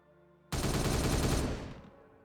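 A dense, loud burst of gunfire from Warhammer 40K Regicide, Space Marine against Space Marine, hits suddenly and holds for about a second before decaying, with no talk over it.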